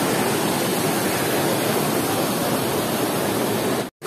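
Rushing water at a tourist spot beside a temple in Guwahati, a dense, loud continuous roar close by, cutting out briefly near the end.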